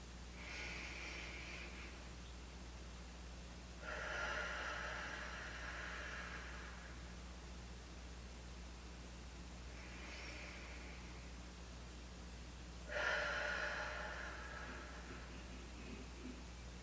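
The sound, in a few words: deep breathing during guided meditation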